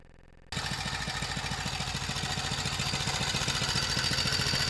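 A small engine runs an aircraft alternator through a machined aluminum pulley adapter. It starts abruptly and then chugs loud and close with a fast, even rhythm and a rough mechanical rattle.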